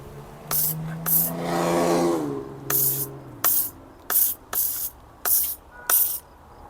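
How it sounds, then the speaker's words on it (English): A Simoniz cordless foam cannon sprays thick foam onto a bike's cassette and drivetrain: one longer hissing burst followed by about seven short, sharp spray pulses at a steady rhythm, close and loud. "We'll also spray down the cassette and drivetrain."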